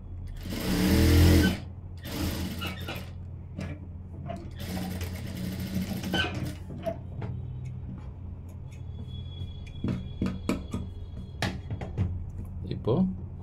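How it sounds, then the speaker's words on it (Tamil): A sewing machine stitching a blouse runs in steady mechanical bursts, whirring and stopping several times, close and fairly loud, with faint voices in the background. "இப்போ இன்னொரு தையல் எடை தையல் போட்டுடலாம்."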